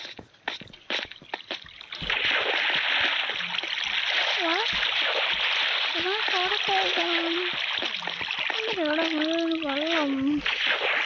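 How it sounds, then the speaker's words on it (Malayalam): Water splashing in Minecraft Bedrock Edition, a steady, continuous wash of splashes running for several seconds, with a voice talking over it. "വെള്ളം."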